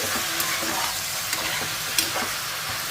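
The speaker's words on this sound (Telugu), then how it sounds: "ఇప్పుడు ఈ చికెన్ని హై ఫ్లేమ్లో ఒక ఐదు నిమిషాలు ఇలా కలుపుకుంటూ ఫ్రై చేసేసుకోవాలి" Chicken stir-fried over a high flame gives a continuous bright sizzle, with a few soft scrapes from stirring, close and steady with no talking.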